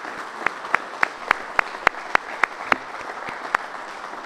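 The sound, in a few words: audience applause for members of the General Assembly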